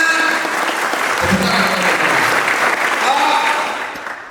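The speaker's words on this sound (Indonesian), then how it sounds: "beri tepuk tangan kepada si Christian." Classroom students at a character-building session clap for a classmate named Christian, a dense burst of applause that swells then fades toward the end, with some voices mixed in.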